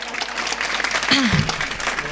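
A village crowd at a kirtan gathering claps steadily through the whole stretch, a moderately loud, even patter with a brief tonal swoop, like a voice or sound-system wail, cutting through the middle.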